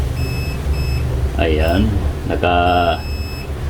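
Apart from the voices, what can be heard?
multimeter continuity test beeping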